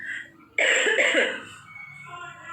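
A single harsh cough bursts out close to the microphone, followed by a brief raspy trailing breath in an otherwise quiet room.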